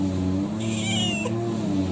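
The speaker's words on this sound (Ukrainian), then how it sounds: "Мучаємо бідного котика." A distressed cat meows in a drawn-out, wavering cry over a steady low hum, close and loud, while it is being injected or sprayed.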